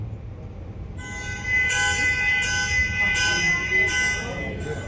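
A recorded car alarm plays its electronic siren in repeating pulsed bursts of high tones over a faint background hum, fairly loud and steady.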